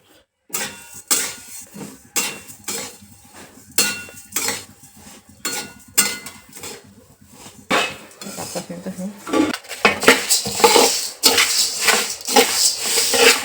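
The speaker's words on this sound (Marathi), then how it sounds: "मी धने आणून निवडून घेतले आणि उन्हात थोडे वाळून घेतलेले होते आता मस्त त्यांना भाजून घेते" Coriander seeds dry-roasted in a pan for a village-style Maharashtrian spice masala, giving steady metallic scraping and clinking of a spoon against the pan, close and loud, with the stirring growing busier and denser toward the end.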